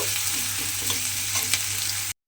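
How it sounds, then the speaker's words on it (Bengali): Chopped onion sizzles loudly and evenly in hot oil in a pan, a dense close-up frying hiss that runs without a break and then cuts off abruptly. "পেঁয়াজ কুচিটা দিয়ে প্রথমে পেঁয়াজটাকে কিন্তু একটু ভালোভাবে ভেজে নেব।"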